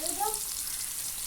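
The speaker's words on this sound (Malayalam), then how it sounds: "കണ്ടില്ലേ, എണ്ണയിൽ കിടന്ന് തിളക്കുന്നത്." Chicken frying in hot oil makes a steady, even sizzle with a faint bubbling texture, close and moderately quiet, heard alone for a brief moment.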